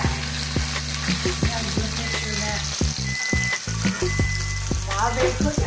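Salmon seasoned with salt and pepper searing in olive oil in a pan, a loud, steady close sizzle with sharp spits and pops throughout.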